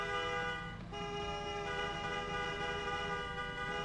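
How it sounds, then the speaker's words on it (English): Car horn in the video game RoadCraft, a loud, steady, sustained honk with a rich, buzzy tone over a low engine rumble, holding for several seconds with only a brief dip. "You honking at me?"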